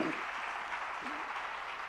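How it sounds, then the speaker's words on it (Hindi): Audience applause at a Jain religious gathering, a steady dense wash of clapping from a crowd in a hall, sustained and even throughout with a faint voice briefly audible underneath. "जरा जोरदार तालियां बजाइएगा।"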